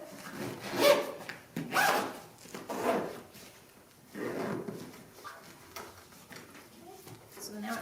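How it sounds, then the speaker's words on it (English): A zipper drawn in several quick rasping strokes around a packed go-bag, close and moderately loud, with pauses between pulls. "So we're going to zip it."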